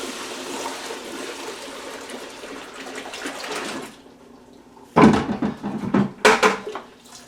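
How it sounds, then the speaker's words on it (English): Dirty cleaning water pours off in a steady trickling stream, then a pause, followed by louder bursts of water splashing into a bucket and container clatter as a fresh batch is mixed nearby. "Definitely time to pour off and mix up a fresh batch of water."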